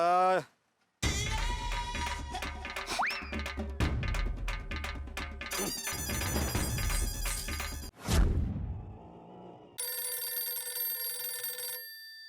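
A phone rings with a loud electronic ringtone, bursts of bright repeating tones over music-like accompaniment, changing pattern partway through; from the Hindi sitcom Taarak Mehta Ka Ooltah Chashmah.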